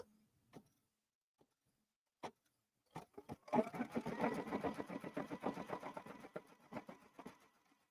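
A sewing machine bastes quilt layers together, starting with a few scattered clicks and single stitches, then running in a fast, even rattle of close, moderately loud stitching for several seconds.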